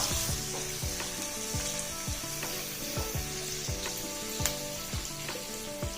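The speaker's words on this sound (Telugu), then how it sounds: "ఆరు పచ్చిమిర్చి చీలికలు వీటిని దోరగా వేగనిద్దాం" Sliced onion and six slit green chillies sizzle steadily in hot oil, with occasional stirring taps of a spoon against the pot, a close and continuous crackle throughout.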